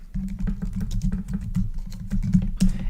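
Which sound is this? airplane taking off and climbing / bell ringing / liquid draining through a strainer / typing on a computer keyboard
typing on a computer keyboard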